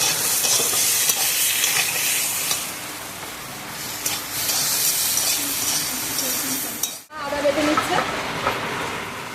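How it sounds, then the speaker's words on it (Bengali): Cumin seeds frying in hot oil and stirred in a pan, a dense continuous sizzle with scraping strokes, a brief break, then renewed crackling; a voice talks faintly underneath. "দু চামচ মতো জিরে দিয়ে দেবো একটু নেড়ে"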